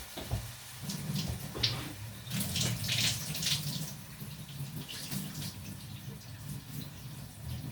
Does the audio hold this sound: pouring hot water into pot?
yes